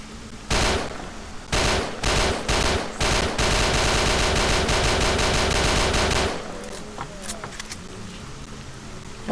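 Gunfire at zombies in the video game S.T.A.L.K.E.R.: Shadow of Chernobyl, rapid automatic bursts and crackling shots close up for several seconds, then the firing stops and quieter ambient noise and distant shots continue.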